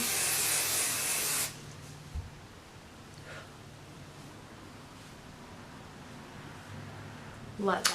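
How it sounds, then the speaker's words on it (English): A single loud hiss of a maximum-hold hairspray can lasts about a second and a half, then gives way to quiet room tone with a few faint clicks. "I spray a hairspray"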